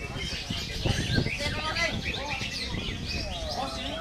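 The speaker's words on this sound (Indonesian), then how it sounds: "silakan para jawara murai batu" Bright, varied white-rumped shama song trills and whistles continuously at a songbird competition, over a busy background with people talking nearby.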